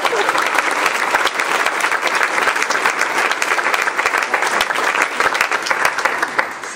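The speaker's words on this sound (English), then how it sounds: "so if we could give her a great applause." Audience applause at the Classical Idol event for a fifth-grade student seated in the crowd, a loud, steady wash of many clapping hands that lasts throughout.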